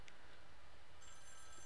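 Telephone in Wolfenstein The New Order rings with a thin, high electronic trill, fairly faint and steady, over low in-game ambient hum, with short bursts near the start and end.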